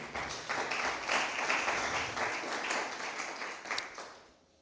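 A church congregation claps together as an offering to the king, with a dense, continuous patter of many hands for several seconds before it fades out.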